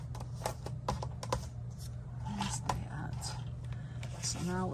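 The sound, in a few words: trimming a paper border strip to 1 inch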